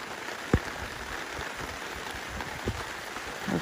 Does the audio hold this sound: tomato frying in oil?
no